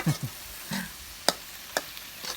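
Spicy eel with kaffir lime leaves, green peppercorns and herbs is stir-fried in a pan, giving a few soft, close scrapes and brief sizzles against a quiet background.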